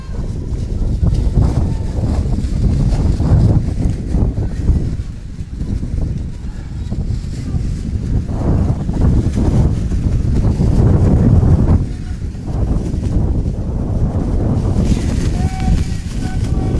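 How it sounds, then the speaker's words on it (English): Strong gusts buffet the microphone with a continuous low roar and rumble, rising and dipping throughout, with muffled football crowd noise faintly underneath. "Sherry says it's so windy I can hardly hear the Wrexham Ultras."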